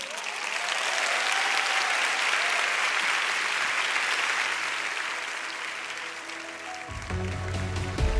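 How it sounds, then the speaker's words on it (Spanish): Loud, sustained applause from an audience welcoming a speaker to the stage at a church conference, a dense continuous roar that gradually fades near the end as background sounds return. "les presento y pido que reciban con un fuerte aplauso a Gloria Hincapié"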